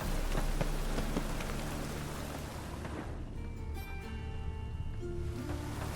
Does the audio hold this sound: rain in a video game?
yes